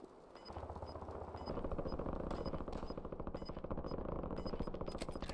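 Warzone video game gunfire comes as a sustained, rapid automatic burst, with dense regular rattling shots continuing steadily at a moderate level.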